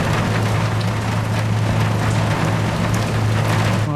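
Rain falls on a ship in Seafarer the Ship Sim, a loud, constant patter and hiss over the deck with a low engine hum running beneath, unbroken throughout.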